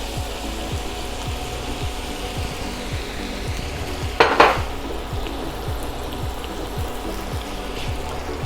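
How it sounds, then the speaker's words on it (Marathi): Sliced onion fries crisp in hot oil in a pan, giving a steady dense sizzle with low rhythmic bubbling. A brief louder clatter of stirring breaks in near the middle, with no talking. "हा कांदा मात्र आपल्याला खूप क्रिस्प फ्राय करायचा आहे."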